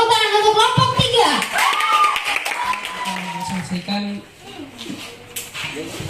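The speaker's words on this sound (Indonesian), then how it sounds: "Tepuk tangan untuk kelompok 3" A classroom group claps briefly for the third group's presentation, scattered hand claps mixed with prominent talking and children's voices over shuffling.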